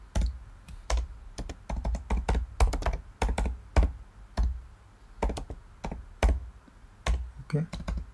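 Steady typing of code on a computer keyboard, close clattering keystrokes in uneven bursts with short pauses, running continuously and alone.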